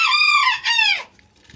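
A hen clucks and crows close by in a harsh, harmonic run of calls that breaks briefly, resumes, then fades to near silence; it is one of several pet backyard chickens, and this hen appears weak with a problem in one leg.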